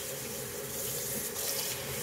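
Slightly warm tap water runs in a steady, even stream while a whole turkey is rinsed and cleaned inside at a kitchen sink, with no talking over it.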